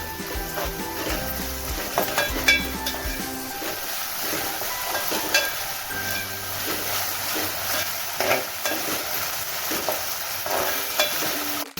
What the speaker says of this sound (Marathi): हे आपण छान परतवून घेऊया तेलावरती.